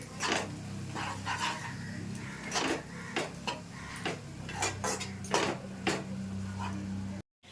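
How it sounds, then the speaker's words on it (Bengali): A spoon stirs flour in hot oil in a pan for sondesh, giving a series of irregular clinks and scrapes against the pan over a low background hum. "এটা অনবরত নাড়তে হবে ময়দাটা দিয়ে।"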